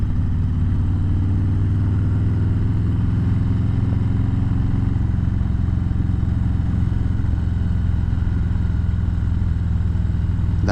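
A motorcycle engine on the road during the Sturgis rally gives a loud, steady, close drone with rumbling low exhaust and wind noise that holds constant throughout.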